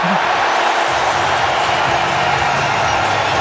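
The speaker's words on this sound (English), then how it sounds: "Now that gets the crowd going." Cricket crowd at an India versus England T20 match roaring after a big six, a dense loud wall of cheering that holds steady across the moment.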